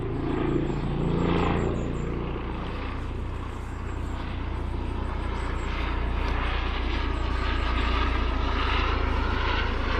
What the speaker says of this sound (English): we've got a helicopter doing manoeuvres in the field here.